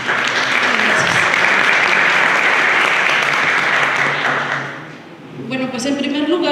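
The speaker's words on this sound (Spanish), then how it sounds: "pido un fuerte aplauso para ella" Loud, sustained audience applause fills a conference hall at a panel discussion on heritage preservation, dense clapping that fades briefly before a voice starts speaking over the end.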